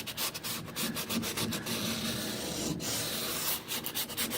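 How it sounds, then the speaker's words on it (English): Hand sanding across the surface of a 1970 Pontiac GTO dashboard, steady close scratchy rubbing strokes with short rhythmic bursts, continuous and fairly loud with no talk. "What they ask us to do is to go around and sand."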